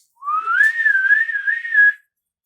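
A person whistles one sustained note of about two seconds, rising at the start then wavering gently in pitch, loud and close with nothing else around it.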